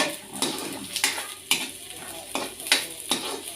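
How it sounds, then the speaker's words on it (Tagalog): Onion and garlic sautéing in a pan, a steady sizzle broken by several sharp scrapes and stirs of a utensil against the metal, close and fairly quiet with no talking. "lutuin muna ang sibuyas at bawang"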